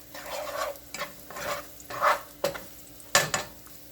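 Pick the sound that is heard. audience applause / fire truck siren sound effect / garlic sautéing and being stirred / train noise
garlic sautéing and being stirred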